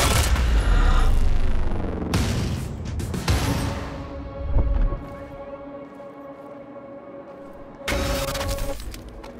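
Gunfire bursts in the video game Quantum Break, Monarch-uniformed soldiers shooting, with loud booming shots early and near the end over a droning game soundtrack and effects.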